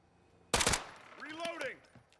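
A quick burst of rapid gunfire pre-firing at a window in Call of Duty Warzone, a short loud cluster of shots followed by a voice talking.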